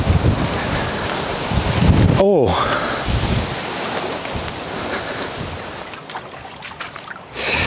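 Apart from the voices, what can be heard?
waves and wind on a lake during fishing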